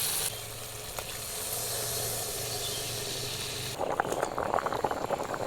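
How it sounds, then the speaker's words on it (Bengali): Water poured into hot, sizzling fried spices for a Bengali pabda fish curry gives a steady loud hiss that suddenly turns to a bubbling, crackling burst near the end, with no talking. "এখন আমি ঝোলের জন্য জলটা দিয়ে দেবো"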